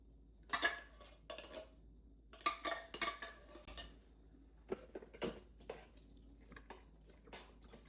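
A spoon scrapes and clanks against a pot of chili being stirred, in irregular metallic knocks and scrapes that are faint and close, with quiet gaps between them.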